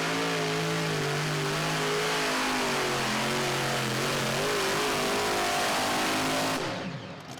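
A three-engine super modified pulling tractor throttles up at a tractor pull competition, a loud, continuous engine roar that rises and holds for several seconds before easing off near the end.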